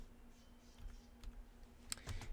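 A computer keyboard is typed on for a winget command in Windows, producing scattered soft key clicks with a small burst of faster taps near the end, close and quiet with no talking.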